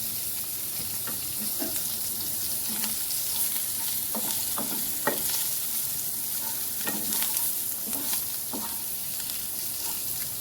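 Fish pieces fry in a hot pan with lemon juice and coriander, a steady bright sizzle running throughout with scattered pops and occasional spatula scrapes, close and alone.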